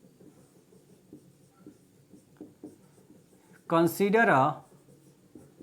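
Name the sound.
writing notes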